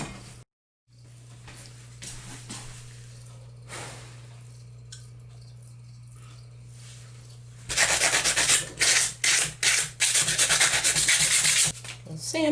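Sandpaper rubbing on wood for a desktop rock garden, brisk close scratchy strokes in a loud burst near the end after quieter handling noises over a low hum.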